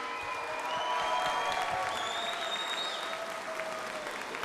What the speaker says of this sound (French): On peut lui faire entendre vos applaudissements à Violaine depuis Toulouse